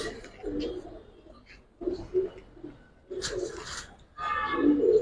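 Giribaz and colouring pigeons coo in soft, low, repeated bursts at close range, with a voice talking intermittently over and between the calls.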